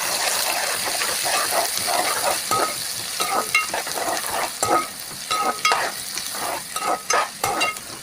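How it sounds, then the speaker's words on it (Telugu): Onions and brinjal fry in a pan for rice biryani, a steady sizzle with repeated clinks and scrapes of a spoon stirring close by, with no talking. "తర్వాత ఉల్లిపాయ వంకాయలు వేసుకున్నాక ఇంక గోల్డెన్ కలర్ వచ్చే వరకు"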